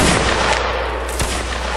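Musket volley fired by a line of reenactment infantry during a Napoleonic-era battle, one loud close blast that fills the clip and rolls away, with a faint trailing crack and no talk.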